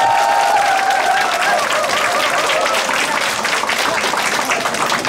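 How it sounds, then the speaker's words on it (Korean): Audience applause fills the room with loud, dense clapping from a large crowd, sustained and even, while a faint tone glides beneath it at the start. "큰 박수"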